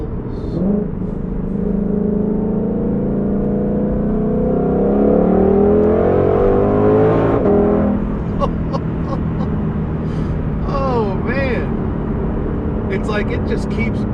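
A 2022 Ford Shelby GT500 Mustang engine revs hard through acceleration pulls, a loud sustained rising roar with a gear-change break midway and further climbing pulls after, with a person talking over it throughout.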